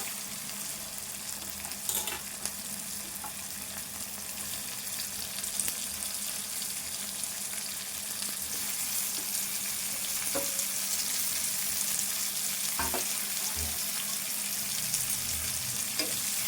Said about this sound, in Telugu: దొండకాయ ముక్కలు ఇప్పుడు వేసుకోవాలి.